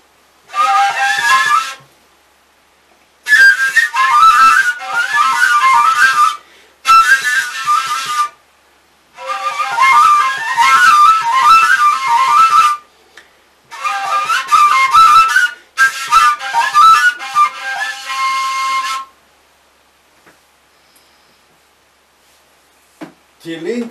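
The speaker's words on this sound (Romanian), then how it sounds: "tilinca este instrumentul primordial și anume cu cea mai arhaică tilinca" A tilinca, the archaic Romanian shepherd's flute without a plug, plays bright breathy whistling phrases in several bursts separated by pauses, close and loud, with overtone-rich tones sliding between pitches, then trailing off into quiet near the end.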